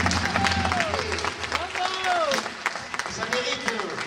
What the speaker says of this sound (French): Ça mérite tout l'applaudissement